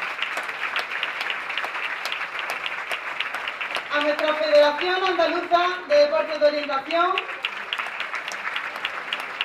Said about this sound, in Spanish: y un grandísimo aplauso por el esfuerzo de meses y meses incansables del personal de apoyo del Club de Orientación de Málaga